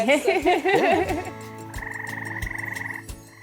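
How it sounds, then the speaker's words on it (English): Male frogs call near La Paz: a close, loud frog gives a rapid series of croaks that settles into a steady, pulsing trill lasting a few seconds before stopping. "Frogs attract females by the whistles, by the noises."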